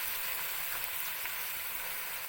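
Garlic hitting hot oil in a pan while cooking gobhi keema, a steady close sizzle and fry with no talking.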